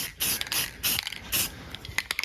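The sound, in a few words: aerosol spray paint rattle can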